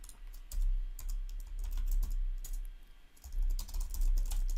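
A command typed on a computer keyboard at a development terminal: brisk, continuous clacking of keys, fairly close and clear, with a brief lull midway and a low background rumble, no speech.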